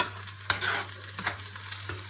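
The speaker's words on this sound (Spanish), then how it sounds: "Cuando ya empieza a estar un poco rehogada la espinaca, que ya vemos que está deshecha" Thawed frozen spinach sautés in a pan, a soft continuous sizzle broken by a few scraping stirs of a utensil, close up with no talking.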